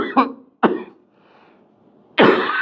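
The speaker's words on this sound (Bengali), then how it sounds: "কাশি পেট খালি হলে পেট কাশিয়ে কাশিটা হয়" A person coughing on an empty stomach: two short, sharp coughs close together, then after a pause a longer, harsher rasping cough, all loud and near.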